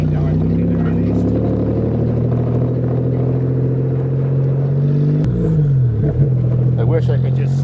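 A manual Toyota car pulls away in first gear on a farm, its engine a steady low rumbling drone with a pitch dip near the end as the clutch releases, while someone talks over it throughout.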